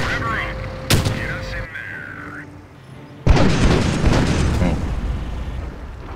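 Gunfire and explosions in the Company of Heroes video game: a sharp bang early on, a quieter lull, then a sudden loud boom followed by a sustained rumble of mixed battle noise.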